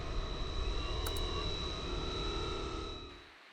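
A PA AMR60 RC biplane flies overhead in a sustained inverted Harrier hover, its engine giving a steady, fairly loud whine that holds throughout and fades slightly toward the end.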